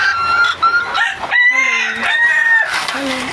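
Fayoumi hens cluck and give drawn-out crowing calls at close range, with a nearby voice speaking over and between the bird sounds.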